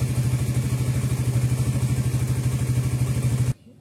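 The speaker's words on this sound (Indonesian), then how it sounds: "sudah saya hidupkan mesinnya 5 menit. Dan sedikit digeber ya teman-teman ya" A Suzuki GSX-S150 motorcycle engine runs close by with a fast, even, throbbing pulse for about three and a half seconds, then cuts off abruptly to near silence.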